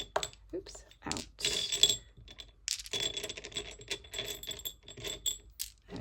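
Dice are tipped out and rattled together in bursts of sharp plastic clicks and clatters, with brief pauses between the rattles.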